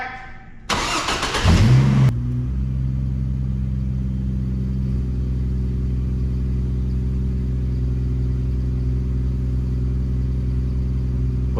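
A 2005 Chevy Trailblazer engine cranks briefly with a loud starter whir, catches, then settles into a steady low idle that holds evenly for about nine seconds, close and alone.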